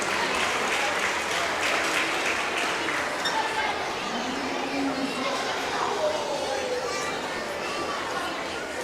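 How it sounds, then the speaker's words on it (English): Crowd at a county fair sheep and goat show applauding children exhibitors, a fairly faint, continuous spread of clapping mixed with background chatter, heard from a distance in a large space. "Give the kids a huge round of applause."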